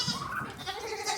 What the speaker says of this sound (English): I have a goat that escaped, so I need to get him locked back up